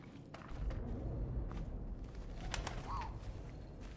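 A pigeon coos softly in the World War I video game 11-11 Memories Retold, heard faintly over low ambient rumble with soft thumps and a few brief clicks.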